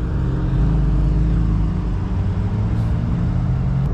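A BMW M3 on the Nurburgring circuit gives a steady, loud engine roar from start to finish, deep low rumble with a slight rise in pitch, like a car powering past close by.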